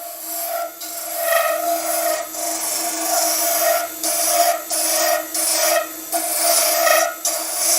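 Skew chisel used as a negative scraper on an epoxy and timber egg spinning on a wood lathe, a loud, continuous rasping scrape with a steady tonal whine, broken into short repeated passes with brief gaps.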